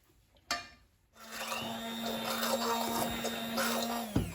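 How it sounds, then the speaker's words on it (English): A hand blender whirs steadily after a brief clatter, mashing a thick homemade potato soup in a pot, with a constant motor hum that cuts off with a clunk at the end. "it's much easier to use the hand blender"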